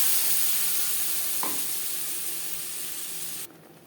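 Coconut, tomato and green chili spice paste hits hot oil already flavored with cumin, dried chilies and bay leaf, giving a loud, steady hiss of frying that fades slightly toward the end.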